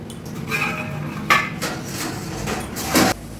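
Lid set onto a pot of chicken soup curry, several metallic clanks and scrapes of metal on metal, close and fairly loud, with a low hiss of cooking underneath.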